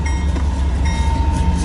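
Freight train cars, one bearing a Missouri Pacific reporting mark, roll past during a snowstorm, giving a loud, close, continuous rumble and rattle that stays steady throughout with no talking.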